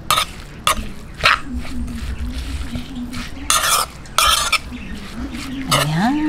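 A spoon stirs green chicken curry with cumin in a pot, giving a few sharp scraping clinks against the metal over a low sizzle, close and fairly loud, with no talking.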